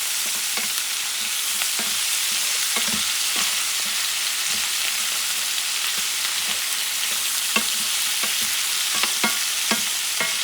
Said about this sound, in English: what I'm trying to do is get that sofrito to mix well. Mix it with the meat